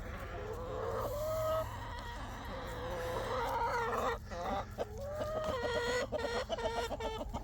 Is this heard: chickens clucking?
yes